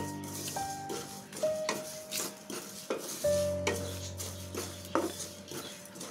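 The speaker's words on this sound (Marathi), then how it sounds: "हे सर्व मसाले छान परतून घेऊया." Whole spices sautéed in a pan over very low heat for a masala mix, with close, repeated scraping and stirring, metallic clinks of the spoon against the pan and a faint sizzle, no voices.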